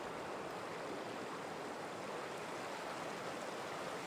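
A strong, sediment-laden river current in Kyrgyzstan rushes past in a steady, dense hiss of flowing water that continues without a break.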